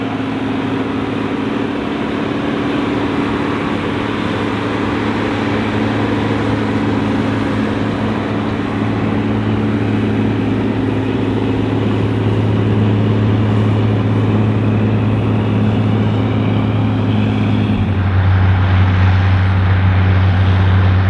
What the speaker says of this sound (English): I had the opportunity to video this Model 990 working with a 12-bottom John Deere moldboard plow in North Carolina